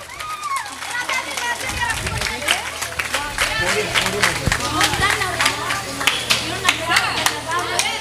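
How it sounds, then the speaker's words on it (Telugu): An audience claps at a church Christmas skit performed by girls and boys, with dense, steady applause running throughout and voices and children's chatter mixed in over it. "చప్పట్లు కొడదాం గట్టిగా."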